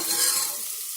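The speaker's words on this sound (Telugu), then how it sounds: "అల్లం వెల్లుల్లి పేస్ట్ కొంచెం ఫ్రై అయింది కదా" Ginger garlic paste fries and is stirred in a pan for vegetable rice, a close, steady hissing sizzle that fades slightly toward the end.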